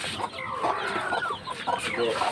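Several chickens cluck and chatter close by on a poultry farm, a hen with newly hatched chicks among them, in a steady, busy stream, with faint voices mixed in underneath.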